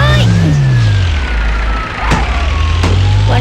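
Game vehicle engine in Rope Hero, a strong low drone with a rising and falling whine and a couple of sharp impacts, loud throughout the short stretch.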